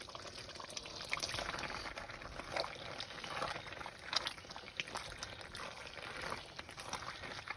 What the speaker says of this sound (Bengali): এখন আমি এই পাস্তাগুলোকে এর মধ্যে ঢেলে দেবো